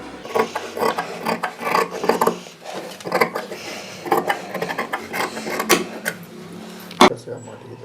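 Scissors snip through pinned blouse fabric for a princess-front designer blouse, a string of close, uneven rasping cuts with a sharp snap near the end.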